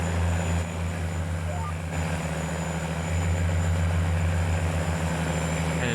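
Tractor engine in Farming Simulator 19, a quad-track machine, droning steadily at a low pitch with a constant hum for the whole stretch, loud and close, with no talk over it.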